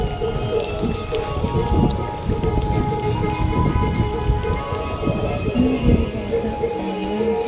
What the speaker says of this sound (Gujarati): જો વરસાદ આવે સાવો વરસાદ છે